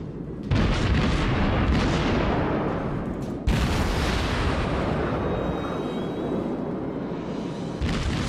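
Naval gunfire in the World of Warships video game: two heavy booming salvos, each followed by a long, loud rumbling roar that lingers, with no talk over it.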